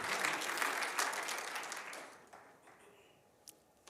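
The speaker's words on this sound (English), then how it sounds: "It's okay to applaud the people we need." A church congregation in a tabernacle applauding its staff, strong clapping that gradually thins and fades to a few scattered claps at the end.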